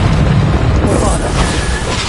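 A loud, continuous blast of the Bombarda explosion spell in the video game Hogwarts Legacy, with a heavy rumbling boom filling the whole moment and no pause.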